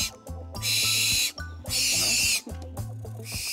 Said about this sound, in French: Qui chointe énormément comme d'habitude.